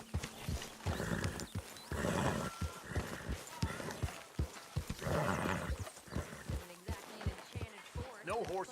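Horse from the video game Red Dead Redemption 2 whinnies and neighs while hooves clip-clop in loud bursts, with game dialogue and other voices talking over the sounds.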